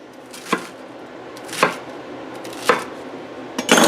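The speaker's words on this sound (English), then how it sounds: "I just have a little bit of butter lettuce that I had left over and a few leaves of romaine. So I'm just going to chop that up." A knife chops butter lettuce and romaine leaves on a cutting board: four crisp, separate strikes spaced about a second apart, close and fairly loud.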